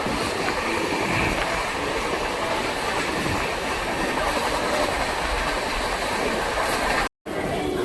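A train rolls along the rails toward Rampurhat station with a loud, steady rumble and rhythmic clattering of wheels, continuous throughout and cutting out briefly near the end.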